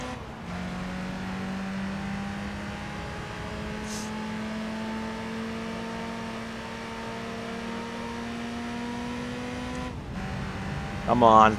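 A Mazda Miata race car in Gran Turismo 3 holds a steady droning engine tone that climbs gradually in pitch, then shifts briefly as it changes gear near the end, while someone speaks briefly over it.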